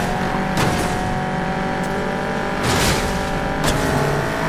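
Cars race in the video game Need for Speed Payback, with engines droning continuously and several loud whooshing pass-bys cutting through, each one brief and close.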